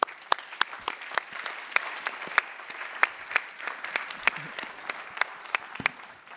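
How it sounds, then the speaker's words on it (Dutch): Applause from a modest crowd, with individual sharp claps standing out above a steady patter of hands. "Graag uw applaus."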